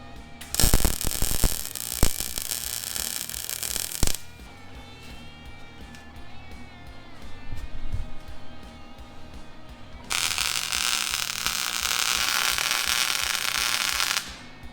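Tack welding on a rusted vehicle liftgate, with crackling, buzzing arc bursts in two loud stretches separated by a quieter humming gap, sharp pops near the start.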